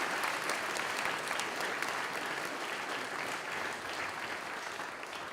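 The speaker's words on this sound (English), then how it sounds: "If everyone could join me in a round of applause for Ron." Chapel congregation at Shawnigan Lake School applauding a substitute organist: steady, full clapping from many hands, moderately distant and even from start to finish, easing slightly near the end.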